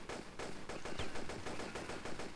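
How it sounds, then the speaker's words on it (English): Enemy gunfire in the video game Quest of Gold: a steady, loud, rapid series of shots repeating at an even rhythm throughout, with no talking. "But they keep shooting at me"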